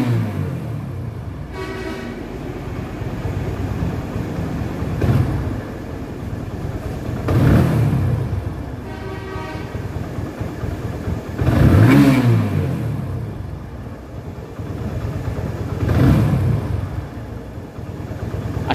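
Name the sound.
TVS Apache RTR 150cc motorcycle engine revving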